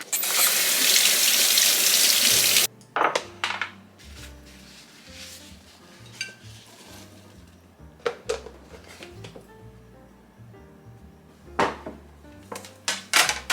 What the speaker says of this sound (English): The last thing I'm gonna wash off is these organic blueberries that I got from the 99-cent store.